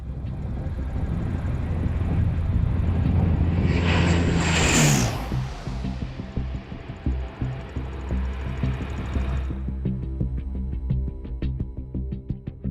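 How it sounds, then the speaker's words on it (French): A 50-tonne propeller aircraft lands at about 200 km/h on a desert strip, its engines roaring loud and close, peaking in a whooshing pass before settling into a steady rumbling drone, no talk. "Pour faire atterrir un avion de 50 tonnes à 200 km/h, pas de place pour l'improvisation."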